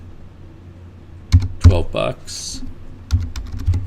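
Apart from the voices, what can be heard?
typing an invoice number on a computer keyboard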